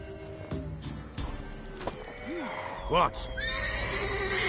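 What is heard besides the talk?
horse neighing and hooves clip-clopping in a video game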